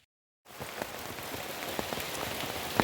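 After a brief moment of silence, steady rain patters on a surface with scattered louder drops and water running past areca palms, continuous and close.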